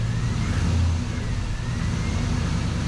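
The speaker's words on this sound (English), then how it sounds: "Rev it up just a little." A 1966 Chevrolet Carryall's engine idles, then rises in a brief, modest rev before settling back, heard fairly close and alone.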